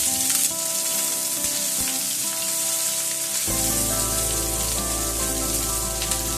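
Chopped onion frying in hot oil with bay leaves and dried red chilies, a loud, dense, continuous crackling sizzle close up, steady throughout with a low hum underneath partway through.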